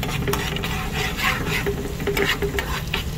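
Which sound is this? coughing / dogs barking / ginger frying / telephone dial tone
ginger frying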